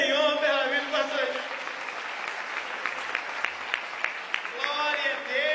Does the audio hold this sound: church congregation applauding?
yes